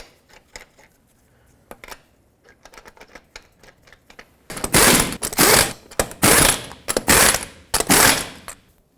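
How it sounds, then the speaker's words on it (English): Lug nuts go onto the wheel of a 1997-2003 Ford F-150, first with scattered light clicks and ratcheting, then loud rapid bursts of a powered wrench or ratchet running them down in quick succession. "Put on all 5 of your lug nuts, bottom them out, and torque them in a cross pattern"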